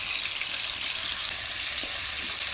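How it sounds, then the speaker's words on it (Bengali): Pieces of bhola fish sizzle loudly and continuously in hot oil in a kadai, a dense, even hiss close by with no speech. "এবারে তেলের মধ্যে একে একে মাছ দেব।"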